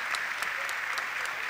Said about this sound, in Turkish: Tebrik ediyoruz, alkışlıyoruz birlikte efendim